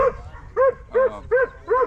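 A dog at a hunting dog show gives four loud, close barks in a quick, even rhythm, with short quiet gaps between them and no talking.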